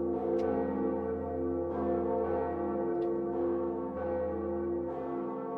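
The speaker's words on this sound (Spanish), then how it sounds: "justamente aquí podemos tocar la segunda campana" The second Bell of Awakening in Dark Souls tolls in a sustained, resonant ring, with fresh strikes roughly every second and a half layered over a long humming decay.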